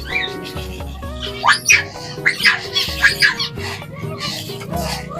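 Small birds in a simple aviary chirp and squawk in quick bursts, a lively jumble of calls over a low steady background hum, close by.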